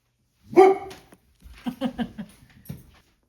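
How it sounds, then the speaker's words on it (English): Dogs bark indoors close by, first a single loud bark, then a quick run of several sharper barks and yips, ending with one more short bark before silence. "The dogs have finally calmed down"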